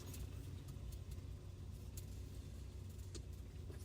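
Steady road traffic rumbles close by on a busy Saturday, a continuous low drone of car engines with occasional brief higher hisses of passing vehicles, and no voices.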